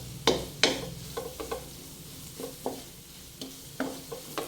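Ginger and mixed seafood stirred in butter in a pan, a soft sizzle broken by repeated scrapes and clinks of a spoon at an irregular rhythm, close and alone.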